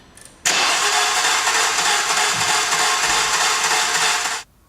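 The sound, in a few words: car engine cranking rapidly with no compression, torn timing belt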